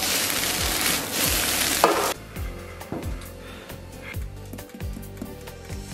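Egg fried rice with salt, MSG and scallions is stir-fried in a wok, with loud sizzling at first, then a run of rhythmic scraping and tossing strokes against the pan over a softer sizzle.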